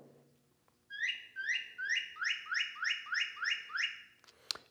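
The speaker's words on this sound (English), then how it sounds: "Here is the one for the state bird of Indiana," A clear series of about ten repeated downslurred whistles from a northern cardinal, evenly spaced and close, in a quiet setting.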